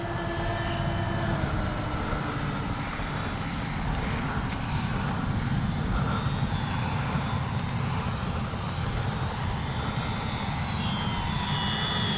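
Loud, steady engine drone from an RC model B-25J warbird bomber coming in to land with flaps down, a continuous dense roar filling the whole clip without pause.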